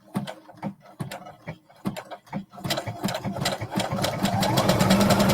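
A sewing machine stitches a 1/2 inch seam at slow speed, starting with separate mechanical clacks that speed up into a steadier, louder whirring run, heard up close with no talking.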